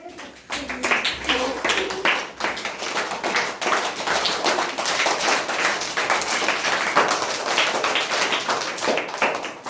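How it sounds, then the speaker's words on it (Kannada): Dense, continuous clapping from many hands, a steady crowd-like patter of claps throughout with a few faint voices underneath. "ಎಲ್ಲ ಪಕ್ಷಿಗಳು ಚಪ್ಪಾಳೆ ತಟ್ಟಿ ಕುಣಿದಾಡಿದವು."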